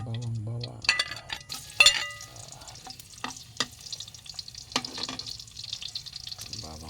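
Garlic frying in oil in a pan for Filipino chicken adobo, intermittent sizzling with stirring clatter and utensil scrapes, fairly close, with bursts of activity and quiet gaps.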